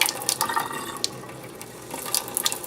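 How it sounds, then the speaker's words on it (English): Cold tap water runs into a bowl of soft freshly churned butter and buttermilk, a steady splashing pour with a few louder gurgles and drips, close by and alone. "Fill the bowl up with some cold water."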